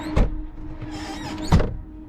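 Two sharp, solid door slams on a V12 Lamborghini, the first near the start and a louder one after a pause, each a close heavy thud with a brief ring, separated by faint mechanical rattling.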